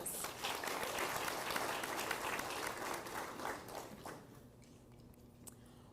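Audience applause fills a school board meeting on school closures, a dense patter of many hands clapping steadily at moderate distance before thinning and fading out toward the end.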